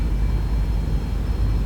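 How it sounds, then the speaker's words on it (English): Airliner engines at takeoff thrust in the X-Plane 11 flight simulator give a steady, dense low roar that stays constant throughout. "takeoff thrust is set"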